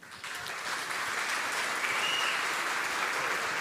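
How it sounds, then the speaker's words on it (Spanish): An audience at a talk on catechists applauds steadily, a dense, sustained wash of clapping that swells slightly and holds for several seconds with no voices over it. "Un aplauso nuevamente, Padre Miguel, nuestra gratitud hacia usted"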